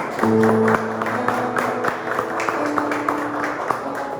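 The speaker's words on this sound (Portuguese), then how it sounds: "Aplauda o Senhor em nome de Jesus." Church congregation applauding during a service: a continuous patter of many hands clapping together, mixed with sustained keyboard or organ-like tones underneath.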